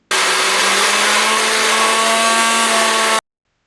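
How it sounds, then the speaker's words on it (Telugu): A mixer grinder whirs loudly and steadily for about three seconds, blending green chillies, ginger, cumin and garlic into a paste, then cuts off abruptly into silence. "మిక్సీ జార్లో పచ్చిమిర్చిలు సరిపోతే రెండు లేదా మూడు వాయిల్లో మిక్సీ పట్టించండి"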